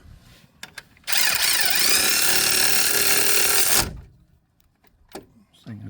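A high-torque power tool drives a brake bracket bolt on a 2007 Saturn Ion during a brake job, a loud whirring burst of nearly three seconds that winds up and then stops, with clicks and handling noises before and after.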